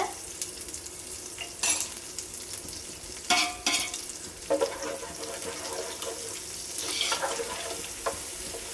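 Rice frying in a pan with a little oil added so it won't stick, a soft continuous sizzle with occasional scraping stirs and light clinks nearby, no voices.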